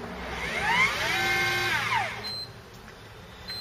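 The spool of an electric fishing reel, a Korean 3000-size model, spins under motor power, making a whining hum that rises in pitch, holds steady, then winds down over about two seconds, close and clear.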